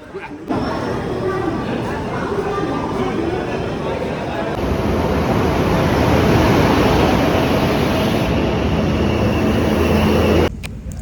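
Onboard a weekly train bound for Porbandar, a loud, steady rumble and roar of the moving carriages fills the whole stretch, with a high whine partway through.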